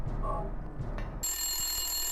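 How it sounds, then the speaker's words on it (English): A telephone in the Silent Hill video game starts ringing partway through, a bright, steady electronic ring that cuts in after a short stretch of low ambient rumble. "A phone rings nearby."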